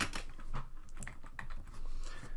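Fingers typing on a computer keyboard, a quick irregular run of close, light key clicks with no talking.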